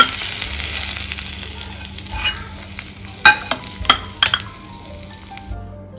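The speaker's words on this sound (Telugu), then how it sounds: "తాలింపు ఇదిగోండి, ఇలా పైన తాలింపు చేసుకోవటం." Urad dal and mustard seeds tempering in hot oil for an amla pickle, a close crackling sizzle with a few sharp pops and metal spoon clinks against the pan, fading toward the end.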